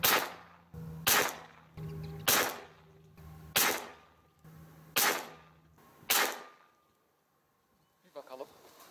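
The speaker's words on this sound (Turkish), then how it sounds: "Şimdi 10 metreden sıfırladığımız silahla 25 metredeki hedefe atış yapalım." Six sharp rifle shots fired at a 25-metre target after scope zeroing at 10 metres, evenly spaced about a second apart, each loud crack with a short decaying tail, followed by faint brief clatter at the end.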